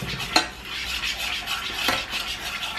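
Melted butter and sugar are mixed in a bowl, with a continuous close scraping swish of a utensil and two sharp clinks against the bowl, no voices.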